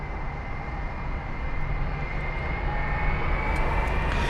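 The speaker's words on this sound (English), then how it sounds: "There is the A330-200 to Salt Lake City." A Delta Airbus A330-200 airliner bound for Salt Lake City produces a steady, broad jet-engine roar at London Heathrow, continuous and fairly loud with no talk.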